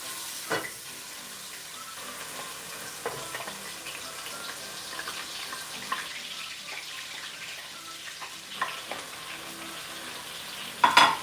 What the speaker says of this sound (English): so we're gonna add our onions first